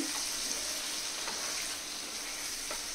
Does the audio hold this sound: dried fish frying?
yes